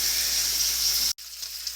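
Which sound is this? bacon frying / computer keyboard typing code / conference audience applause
bacon frying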